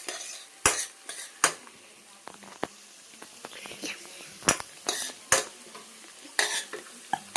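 A small spoon stirs egg curry in a pot, with repeated sharp clinks and scrapes against the metal in an irregular rhythm over a faint sizzle.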